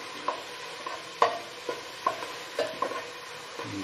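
Chicken khichuri being sautéed in a pan produces a series of sharp spatula scrapes and taps against the metal over a faint sizzle. The strokes come in an uneven rhythm, close and fairly quiet, with no voices.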